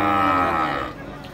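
A cow at a livestock fair in Santa Rosa de Lima lets out one long, loud, close moo that fades after about a second.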